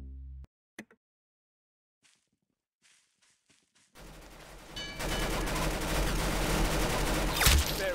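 Gunfire in the video game Arsenal: a few soft footsteps and taps in near-silence, then loud, continuous rapid shooting breaks out and keeps going, dense and close.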